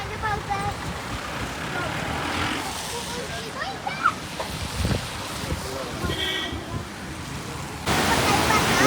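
Steady rushing water pours continuously over a small check dam near Cheeyappara waterfall in Idukki, Kerala, a broad constant wash mixed with some wind buffeting on the microphone.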